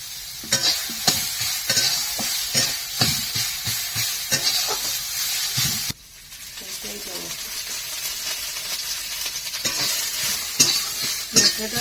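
Ground cumin and ginger paste frying in hot oil, with repeated stirring scrapes in the first half, then a steady, louder sizzle that continues up close to the end.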